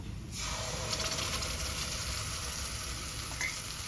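Yogurt mixture being stirred into a frying Gujarati-style green gram curry in a pan, giving a steady close sizzle with scraping stirring noises throughout, no voices.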